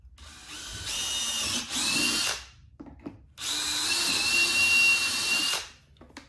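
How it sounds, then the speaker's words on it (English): A power drill whines in two sustained bursts, drilling two holes through a motorcycle mounting bracket close by, separated by a brief pause with small clicks. "give that a quick drill through"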